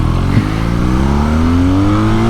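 A 2021 BMW R nineT Urban GS motorcycle pulling hard up through the gears, its loud, close engine note climbing steadily in pitch after a brief dip at a gear change.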